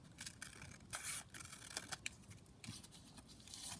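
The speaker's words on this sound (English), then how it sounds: "I'm just going to trim around this now and trim it down on this edge as well." Scissors trimming around a book page pocket for a junk journal, a series of close crisp snips and paper rustles at an uneven pace, with brief pauses between cuts.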